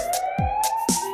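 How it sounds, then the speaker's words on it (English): A cartoon fire truck siren wails steadily and loud, a continuous tone broken by brief electronic blips and swoops. "It's a siren, that's what it is."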